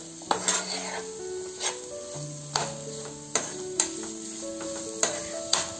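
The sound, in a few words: potatoes frying in a pan until golden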